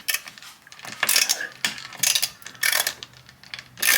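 A ratchet wrench works at a stubborn bolt on a Land Cruiser headlight. Loud, close bursts of rapid clicking repeat in short strokes, with no talking.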